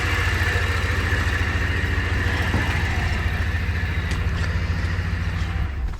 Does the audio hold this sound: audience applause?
no